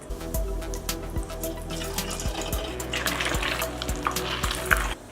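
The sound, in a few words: boiled eggs frying in oil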